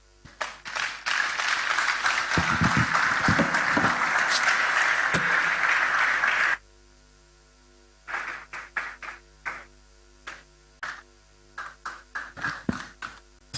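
An audience at a 2024 business summit applauds the speaker, with a dense, sustained burst of clapping for about six seconds that cuts off abruptly and gives way to scattered, sparse claps.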